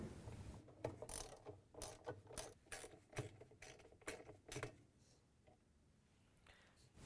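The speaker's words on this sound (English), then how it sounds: "We're going to use a wrench, a long extension, and a 7/16" socket to take it off." Ratchet socket wrench with a long extension and 7/16-inch socket loosening the agitator coupler bolt on a GE washer, a quick run of close, crisp clicking strokes that stops near the end.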